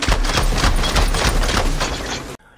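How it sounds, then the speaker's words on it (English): Shotgun blasts at a moose in the video game Horizon Forbidden West: loud, dense combat noise with several sharp booming hits in close succession, ending abruptly in near silence. "Want to shotgun a moose in the face?"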